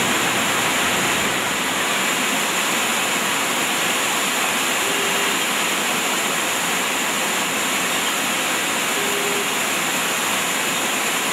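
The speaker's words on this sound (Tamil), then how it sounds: "உயர்ந்த மலைத்தொடர்களுக்கு நடுவில் வெள்ளியை உருக்கி ஊற்றியதைப் போல் புதுப்புது அருவிகள் தோன்றியுள்ளன" Newly formed waterfalls pouring down high mountain ranges after heavy rain, a steady, loud roar of rushing water that never lets up, with no voices.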